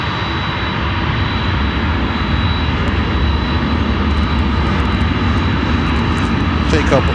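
An airplane's engines roar steadily at Chicago O'Hare airport, loud and continuous, with a fire department vehicle following the aircraft after landing and people talking faintly underneath.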